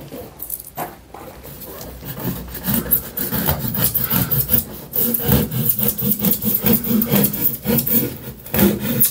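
Styrofoam is roughly cut by hand in close, loud, rhythmic rasping strokes that squeak and scrape in rapid back-and-forth bursts, with no voices.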